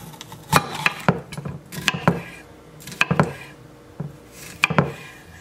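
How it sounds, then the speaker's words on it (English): A GodMorn chef knife cuts food on a cutting board, giving crisp close chops and knocks against the board in an uneven rhythm of several strokes, no talk. "So I'm gonna cut it down the middle."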